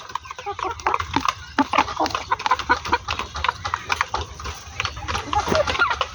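Hill-country desi chickens cluck in a busy farmyard, with repeated short clucks and calls close by over a steady background of low rumble and scattered knocks.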